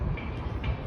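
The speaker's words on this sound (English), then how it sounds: "Oh, I can hear a train coming." An UP Express train rumbles past in downtown Toronto, a steady low roar with faint rhythmic wheel clatter, heard up close and continuous through the brief moment with no talk over it.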